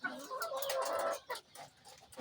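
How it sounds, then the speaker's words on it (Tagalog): Pet chickens cluck in a brief, faint burst of clucks and squawks close by, with a few short calls trailing after. "magpapakain muna ako ng aking mga alagang mga manok"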